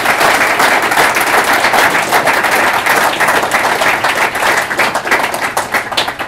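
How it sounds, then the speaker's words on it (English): A conference crowd at a Startup Grind Silicon Valley event applauds Mike Maples Jr. of Floodgate in a loud, dense wash of clapping that stays full throughout with no talk. "So let's give Mike a big round of applause."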